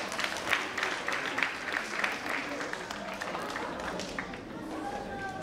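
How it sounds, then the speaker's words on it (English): An audience applauds at a preschool and primary school graduation ceremony. The clapping is dense and sustained, with voices mixed in and the applause easing off toward the end. "Please can we clap her?"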